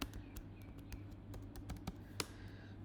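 Keys clatter on a computer keyboard in a quick, uneven burst of close clicks as a command is typed into a terminal, with no one speaking.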